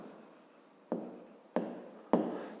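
A pen or pencil writes on paper during a fifth-grade math lesson, giving a soft scratching with three sharper strokes at a steady pace, close and fairly quiet, with no talking.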